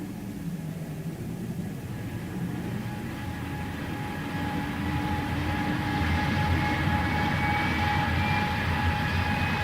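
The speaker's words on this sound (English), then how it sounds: "Well, Mr. Maslin, there's your second aircraft, safe and sound and ready to leave for Peking." A radio drama aircraft engine effect: a jet idling on the stand after push-back clearance. The hum is steady and broad with sustained whining tones, and it grows slightly louder over time with no voices.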